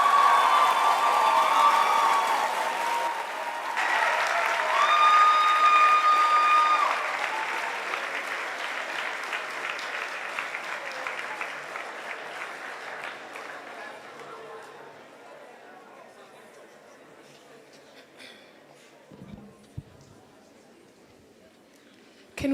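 An audience at a UWC Day event applauds after a speech, loud clapping with scattered whistles and cheers at first, then thinning and fading gradually to near silence.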